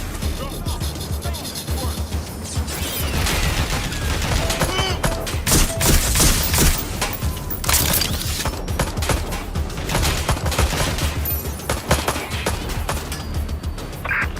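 Gunfire in the video game Watch Dogs Legion, a dense stretch of rapid shots and bursts that runs steadily throughout, loud and close, with voices talking over parts of it.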